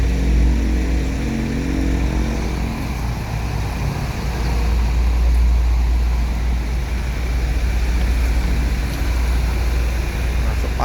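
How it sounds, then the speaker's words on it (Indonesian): A Sinar Jaya bus rolls into a parking area with a loud, steady diesel engine rumble that runs throughout, the idling drone dominating with road and yard noise and no speech. "Masuk parkir Sinar Jaya mengisi untuk persiapan keberangkatan."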